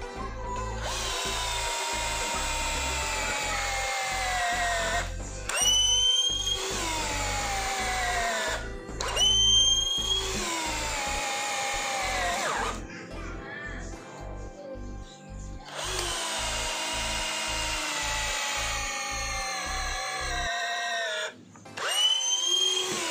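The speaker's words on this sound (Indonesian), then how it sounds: "saya menggunakan mata bor auger ukurannya 10 mm, panjang 230 mm, pada mode drilling dan percepatan yang high atau nomor 2" A cordless impact drill spins a 10 mm, 230 mm-long auger bit on high speed through 15 cm thick mahogany. It runs in several loud bursts of whining drilling, each rising in pitch, separated by short pauses, with faint rooster crowing in the background.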